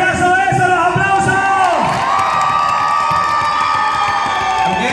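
Loud crowd cheering and whooping with children shouting at a Halloween costume contest in a bar, a continuous roar of voices with a rising shout partway through.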